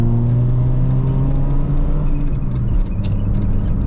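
A stanced Peugeot 206 CC 1.6i 110 engine drones steadily, loud and close, with sustained revs that dip briefly near the end, heard alone without talk.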